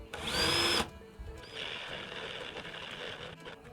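A power drill with a Forstner bit and a low battery whines briefly at high speed, then cuts out, followed by a quieter stretch of low rumbling and faint handling noise.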